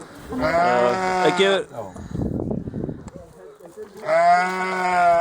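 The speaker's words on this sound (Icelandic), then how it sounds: "Þetta er rolla." Ewes bleating on an Icelandic sheep farm at lambing time: two loud, wavering bleats near the start and end, with people talking in between.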